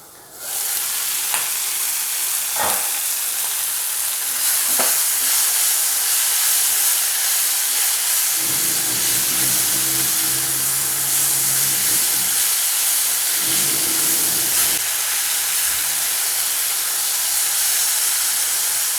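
Tomatoes for matar paneer sizzle and steam steadily in a lidded pan, a continuous close hiss of frying that stays loud throughout, with a few soft clicks and a low bubbling rumble partway through.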